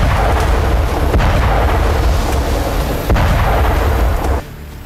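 M270 MLRS multiple rocket launcher firing toward a Hamas base in Gaza, a loud sustained roar of launches with sharp cracks, ending abruptly into a quieter rumble.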